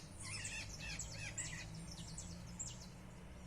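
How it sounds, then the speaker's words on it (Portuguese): Several birds sing and chirp at sunset near a home garage, with rapid overlapping phrases over a low steady background hum, moderately distant and continuous. "ouvindo o cantar dos pássaros,"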